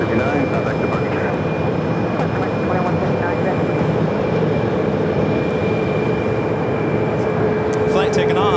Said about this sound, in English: Flight taking off, American Airlines flight 2159, a 737 MAX 8, heading to JFK.